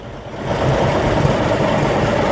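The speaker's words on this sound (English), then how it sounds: "revving the engines for us here" Farm tractors and equipment, both antique and modern, rev and idle at a local parade in Halifax, giving a steady, fairly loud mechanical engine drone that holds for a couple of seconds with no talk.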